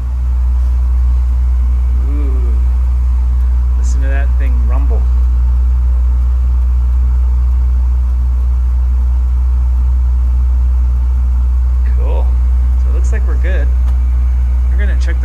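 A furnace blower motor rumbles loudly and continuously with a deep, steady low drone, close by, while someone talks briefly over it at a few points.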